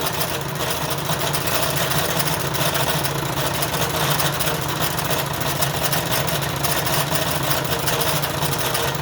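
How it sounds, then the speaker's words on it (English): Steady, loud mechanical rumble with a rattling, gritty churn, continuous and unchanging throughout, from the feed pump of a Wilesco D32 model steam engine cavitating. "This what you hear now is cavitation."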